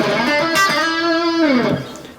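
A single sustained electric guitar note from a Kemper profiling amp, picked up by a camera microphone, rings with a rich, buzzy tone, bends downward near the end and fades.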